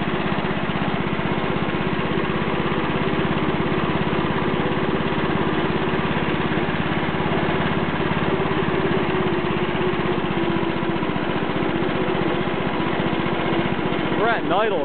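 A Wheel Horse Lawn Ranger riding mower with an 11HP engine idles steadily and fairly loud for the whole stretch, a constant low engine drone with a brief change near the end.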